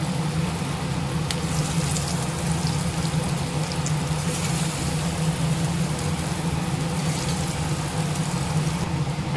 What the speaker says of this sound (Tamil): நம்ம எண்ணெய் காய வச்சுருந்தோம் இல்லையா எண்ணெய் காஞ்சிருச்சு